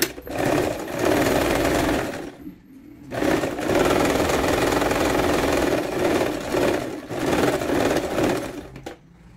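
A sewing machine stitches a seam on a small witch hat for a doll, running in three loud, steady bursts separated by short pauses.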